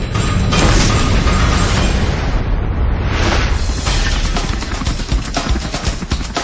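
The 1908 Tunguska explosion over Siberia, rendered as a sustained loud rumbling boom with a dense roaring texture that swells and rolls on for several seconds, heard alone.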